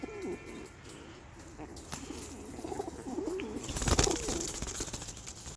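Soft, low Birmingham roller pigeon coos repeat over faint background noise, followed by a brief flurry like flapping wings near the end.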